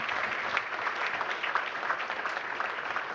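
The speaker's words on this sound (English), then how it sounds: "A great applause to you." An audience applauds at a conference panel on climate change and flooding, steady dense clapping from a room full of people, moderately loud and sustained throughout with no talk over it.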